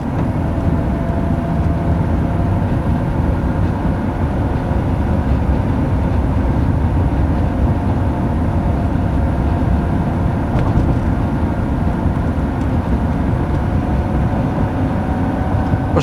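A 2003 Lamborghini Murcielago engine pulls steadily through third gear, a loud, continuous low-pitched drone that holds even from start to finish with no talking over it.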